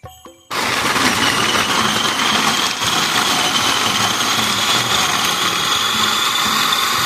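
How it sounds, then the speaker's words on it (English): A food processor blends fruit and two tablespoons of water on high for fruit ice cream, a steady loud motor whir that kicks in abruptly after a brief quiet start and runs on unbroken. "Now we're just going to blend it on high"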